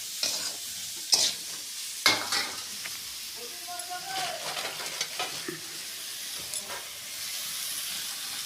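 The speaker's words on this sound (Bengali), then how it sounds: "আলু আর বেগুন একসাথে কষতে লাগলাম" Potato and eggplant pieces stir-fry together in a hot pan, giving a hissing sizzle under repeated scraping strokes of a spatula, with a couple of sharp clanks early on.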